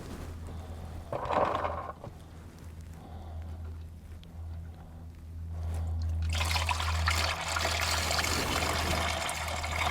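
Liquid trickles and drips at first, then swells into a steady, splashing stream of coolant pouring out close by, drained from the inverter of a Toyota RAV4 Hybrid.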